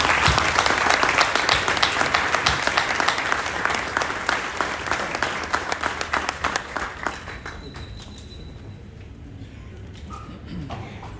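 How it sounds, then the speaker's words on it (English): An audience at a morning community event gives a round of applause, dense, loud sustained clapping that fills the room, then gradually thins out and fades to scattered claps and quiet. "I'd like to give you and your family a round of applause."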